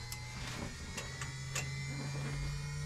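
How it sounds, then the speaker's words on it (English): Aircraft instrument gyros spinning up in the cockpit of an aerobatic plane before flight, a steady electric hum and whine that holds throughout at a low, constant level. "So those are the gyros spinning up in some of the instruments too that you're hearing."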